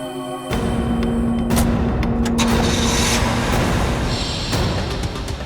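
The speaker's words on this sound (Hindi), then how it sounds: "ये गाड़ी चल रही है" A car engine runs loud and steady at close range throughout, a continuous broadband rumble with a few sharp clicks and knocks on top and no voices.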